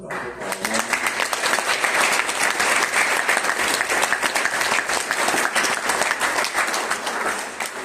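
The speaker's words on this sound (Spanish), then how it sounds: "Aquí también les pido un aplauso para ella." Steady applause from a lecture audience at a 2024 architecture talk, a dense, even patter of many hands clapping at close range for nearly eight seconds with no pauses.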